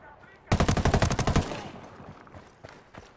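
Rapid automatic gunfire in the video game Ghost Recon Wildlands, a loud burst of about a dozen shots lasting a second, followed by fading echoes and a few softer distant shots.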